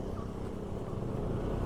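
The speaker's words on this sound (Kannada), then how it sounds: "ಅಷ್ಟು ಒಳ್ಳೆ ಎಕ್ಸಾಸ್ಟ್ ಸೌಂಡ್ ಇದೆ ಮಾತ್ರ" A VLF Mobster 135 motorcycle's exhaust rumbles steadily at close range, a low, even idle-like drone with mild road-noise texture and no clear revving peaks.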